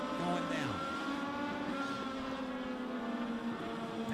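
Legends race cars lap Meridian Speedway: a steady, layered roar of several engines at a distance, one pitch sliding down as a car passes, continuous throughout at moderate volume.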